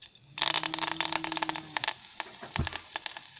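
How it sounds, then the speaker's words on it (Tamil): Mustard seeds and curry leaves crackle in hot oil for a neem flower chutney tempering, a close burst of dense popping and sizzling that thins into scattered sharp crackles, with no talking. "கடுகு நல்லா பொறிஞ்சிருச்சு கருவேப்பிலை சேர்த்துக்கலாம்"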